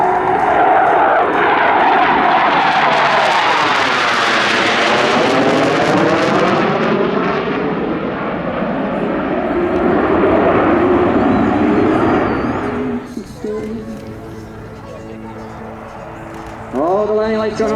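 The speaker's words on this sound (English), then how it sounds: "And this will be the start of the overhead parade for the F-18." A CF-18 Hornet jet at the Camrose airshow passes overhead with a loud, sustained roar that swells and falls, sweeping as it flies by. Near the end the roar drops away abruptly to a quieter engine whine.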